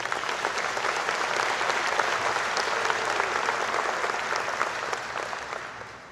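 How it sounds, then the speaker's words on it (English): A gala audience at a fighter wing anniversary ceremony applauds in a dense, even burst of clapping that stays steady and fades slightly toward the end. "So how about a round of applause for them as well?"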